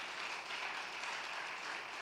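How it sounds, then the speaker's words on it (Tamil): A congregation at a Sunday evening church service claps together in a steady, continuous wash of applause that sounds fairly soft and distant, with no talking heard. "அட கைத்தட்டம்பா"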